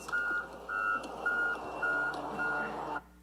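Repeated backup beeps from a John Deere wheeled loader ring out at an even pace over a rumbling engine, then cut off abruptly near the end, with no talk.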